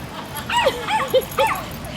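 A dog at an airport gives three quick high whimpering yips in a row, close and fairly loud, with rising-and-falling whines between them.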